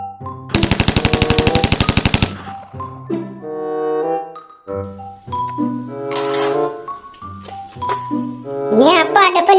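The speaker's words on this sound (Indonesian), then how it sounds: "mainan tembak-tembakan" Plastic toy gun firing a rapid electronic machine-gun burst of evenly spaced beeps, followed by tinkling electronic tones and jingles, loud and close, with a child-like voice talking between sounds.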